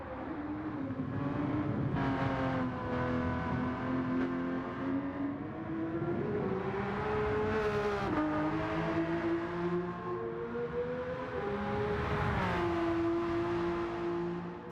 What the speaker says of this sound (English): it still kind of retains that epic Porsche 911 sound